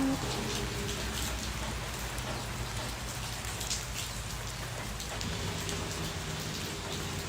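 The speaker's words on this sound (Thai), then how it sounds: "ตอนนี้ฝนตกรินรินอยู่นะจ๊ะ" Steady light rain patters continuously on leaves and ground, a soft even hiss with scattered drips, no voices.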